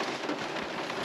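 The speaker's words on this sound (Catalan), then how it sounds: "estem a Peramola, que hem vingut a donar una volta per aquí i està plovent." Steady rain hisses evenly over a hiking route past the springs at Peramola in Catalonia, a dense, continuous wash of drops with no voices.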